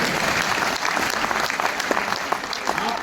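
An audience claps together in a dense, steady burst of applause that fills the whole moment, loud and close, with faint voices mixed underneath.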